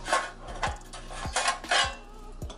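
A metal seafood-stuffed lobster tray clanks and scrapes as it slides out of a New Wave air fryer oven, several sharp close-up metallic knocks and rattles in quick succession.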